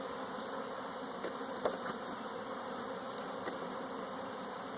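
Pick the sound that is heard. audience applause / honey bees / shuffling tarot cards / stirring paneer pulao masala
honey bees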